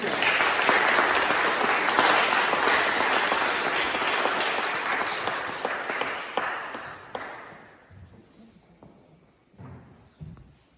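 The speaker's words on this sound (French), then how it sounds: "je vous propose d'applaudir les artistes" An audience applauds the performing artists at the opening of a musical tale, with loud, dense clapping that holds for several seconds, then thins and fades to a few scattered claps and quiet room noise.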